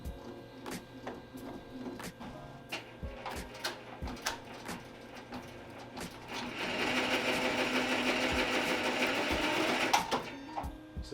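An embroidery machine stitches a hat with rapid mechanical clicks and taps, quiet at first and then a louder steady whir and rattle that stops near the end, when the machine throws an error.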